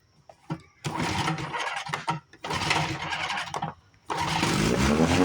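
Thirty-year-old boat motor, choked and on fresh gas, cranks in loud bursts: a brief sputter, then three longer rough mechanical runs separated by short gaps, the last one sustained and growing steadier.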